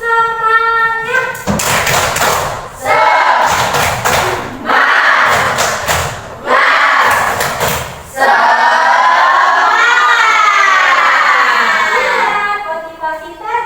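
A group doing the rhythmic Indonesian 'tepuk semangat' clapping chant during an informatics class ice-breaker, with bursts of loud patterned claps alternating with shouted group chanting and voices.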